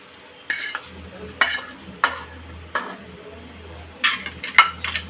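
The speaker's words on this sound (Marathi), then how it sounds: "आता थोडंसं हे परतून घ्यायचं" A spoon scrapes and clinks repeatedly against a pan as masala is stirred and sautéed, each stroke a sharp metallic scrape over a low steady sizzle, close and clear with no talk.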